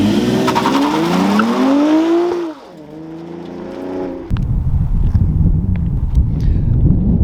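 A car launching hard on Michelin Pilot Sport 4S tires, engine revving up with a rising pitch, then tire squeal and rough roaring acceleration as it fights for traction, loud and close.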